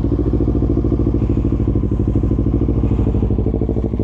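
A 2020 Kawasaki Ninja 650 motorcycle engine idles while warming up, with a loud, close, rapid and even throbbing pulse that holds steady throughout.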